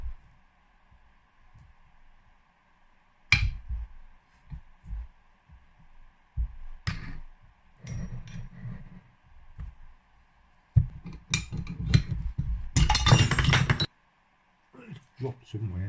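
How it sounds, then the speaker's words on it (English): A bearing is slowly drawn out of a DTR 125 two-stroke engine with a puller, giving intermittent close metallic clicks, knocks and creaks separated by quiet gaps, with a burst of rattling near the end. "Now we'll just tighten that and extract the bearing out nice and slowly"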